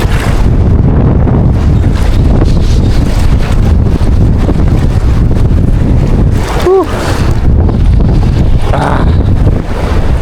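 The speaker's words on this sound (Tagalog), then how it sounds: "malakas nga lang talaga yung hangin ngayon" Strong wind buffets the microphone at sea aboard a fishing boat in rough waves, a loud constant roar with surf and water rushing underneath and a brief tonal squeak partway through.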